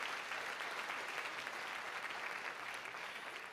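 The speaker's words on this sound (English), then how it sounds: "Give America Scores another nice round of applause for their work." A crowd at a youth poetry slam applauds steadily, a dense, even patter of many hands heard from some distance and fairly quiet, with no voices rising above it.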